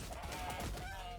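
Geese honking in the roguelike video game How Many Dudes, a quick burst of nasal honks over a busy layer of game noise, fairly faint.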